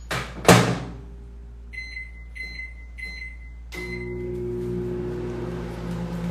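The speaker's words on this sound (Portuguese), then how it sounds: "Vou colocar ele agora no micro-ondas por 2 minutos e meio." Microwave oven cooking a mug cake: a door thuds shut, three short keypad beeps follow, then the oven starts a steady, close electrical hum that runs on to the end.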